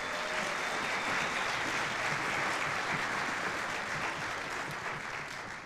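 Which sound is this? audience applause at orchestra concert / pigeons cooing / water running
audience applause at orchestra concert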